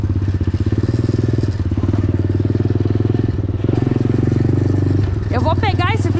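A mini motorcycle engine runs loud and close during a ride, holding a steady, throbbing putter with slight rises in revs, while a voice cuts in near the end.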